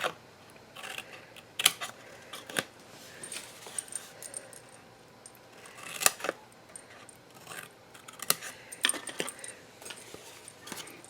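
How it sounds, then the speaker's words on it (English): Small paper tabs being cut out with scissors for an adhesive caddy craft: intermittent close snips and paper rustling, with a few sharper clicks scattered through and no voice. "So now let's go ahead and cut our tabs out."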